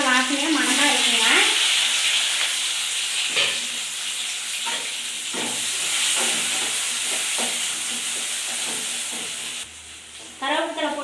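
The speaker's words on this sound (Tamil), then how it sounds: "இப்போ இஞ்சி பூண்டு வெங்காயம் தக்காளி எல்லாம் போட்டு வதக்கலாங்க." Crushed ginger and garlic with onion and tomato sauté in a pan for chicken gravy, giving a steady, loud sizzling hiss with soft stirring clicks, while a voice speaks briefly at the start and end.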